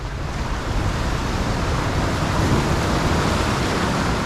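Ocean wash surging across coastal rocks on the Auckland east coast, a steady loud rushing roar of surf and water filling the whole stretch without voices.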